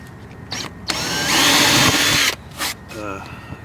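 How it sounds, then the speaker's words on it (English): A power drill bores small holes around a stuck screw in a sailboat deck, with one loud sustained burst of about a second and a half between shorter on-off pulses, close and clear. "technique I found that works pretty decently is to just drill"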